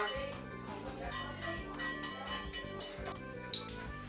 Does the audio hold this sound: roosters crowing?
no